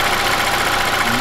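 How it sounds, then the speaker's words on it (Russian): 2007 Toyota Avensis 2.0 petrol engine idling after warm-up at a slightly high idle, a loud, steady, even drone heard close up with nothing else over it. "Двигатель до рабочей температуры я прогрел"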